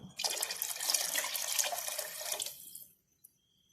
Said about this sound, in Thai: เราก็เติมน้ำลงไปอีกหน่อยนะครับ